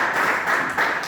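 Church congregation clapping in applause for Jesus, a dense burst of many hands clapping close by, continuous with a slight surge near the end, no voices.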